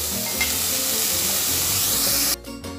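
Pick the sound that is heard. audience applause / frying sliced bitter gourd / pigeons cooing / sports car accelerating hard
frying sliced bitter gourd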